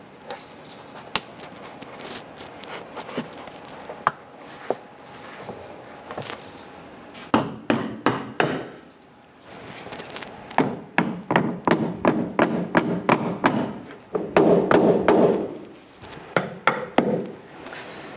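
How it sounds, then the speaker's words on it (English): Large plastic push pins snap and tap into the rear inner fender liner of a 2005-2010 Chrysler 300, with scattered clicks and thumps at first that turn into dense runs of close, sharp taps. "we're going to install our 6 large push pins that we previously removed."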